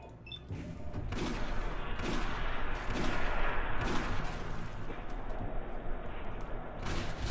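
Gunfire in the video game Fallout 4 at Nuka-World: a dense, continuous barrage of shots and booming blasts that runs unbroken for several seconds, loud and close, with nobody talking over it.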